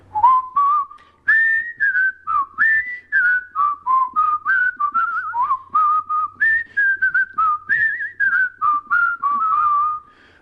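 Someone whistles a bouncy melody alone, clear and close, with short phrases and brief pauses between notes.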